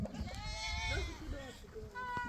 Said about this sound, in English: We've got the local breed goats here who are just roaming around the goat house.